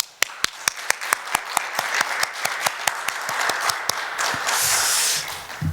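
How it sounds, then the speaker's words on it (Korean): A church congregation claps together at a New Year's Eve service, starting as a few distinct, evenly spaced claps that swell into dense, steady applause lasting several seconds. "우리 감사와 영광의 박수 올려드리겠습니다"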